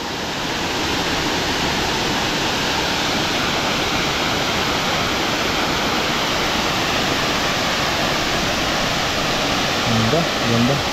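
The Sangbay Ni Ragsak waterfall in Ilocos Sur pours with a loud, continuous broadband roar heard up close, steady throughout, with a faint voice briefly under it near the end.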